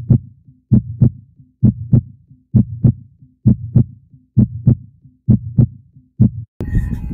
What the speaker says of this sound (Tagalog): Number 7, heartbeat.